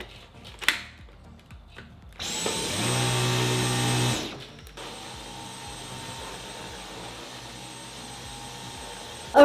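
A repaired Dyson cordless stick vacuum with a replacement battery runs on living-room carpet, a loud whining motor burst lasting about two seconds, then a quieter steady hum continuing alone.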